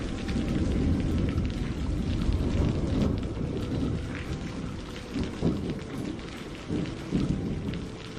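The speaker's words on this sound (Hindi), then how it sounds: "बारिश अब और भी तेज होती जा रही थी।" Heavy rain pours down steadily while thunder rumbles low and continuous, the downpour loud and close throughout with no voices.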